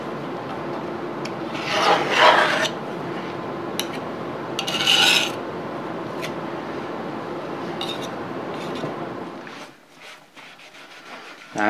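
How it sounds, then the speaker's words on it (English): A rag rubs and wipes across a citrus-stripped metal surface on a South Bend shaper being restored. The rasping scrubs come close and moderately loud in a few uneven strokes, two of them stronger, and there is no talk. "you won't get in trouble if you use a rag just to wipe it down"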